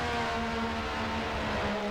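Williams FW11B turbocharged Formula One engine in Assetto Corsa, a sustained droning tone held at steady revs, loud and continuous with no pauses.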